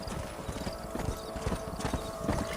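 Horse hooves clip-clop in the video game Red Dead Redemption, a steady near rhythm of uneven hoofbeats over a faint background hum, with a short whinny-like sound mixed in.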